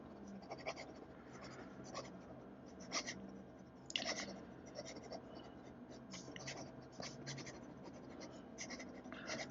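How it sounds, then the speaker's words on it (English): Vintage Aurora 98 fountain pen writing quickly across paper, giving soft, repeated scratchy strokes in quick bursts, close and faint throughout. "Let's try writing quickly."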